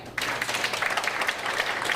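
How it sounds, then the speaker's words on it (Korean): Applause from a forum audience at a Korean civic gathering, starting abruptly and continuing as a steady, moderately loud patter of many hands. "감독님께 큰 박수 좀 부탁드립니다."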